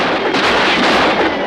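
Special-effects bombs and gunshots from The Adventures of Superman erupt in a dense, loud burst of blasts and crackling reports that rolls on continuously without a break.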